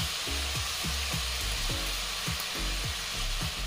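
Spices and a tablespoon of tomato paste sizzle loudly and steadily in hot oil for a pangash fish curry, with regular stirring strokes scraping through the frying.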